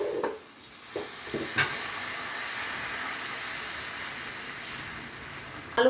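Aloo dosa batter sizzles on a hot pan with a steady close frying hiss. A few soft scrapes and taps come near the start, and a brief knock comes at the very end.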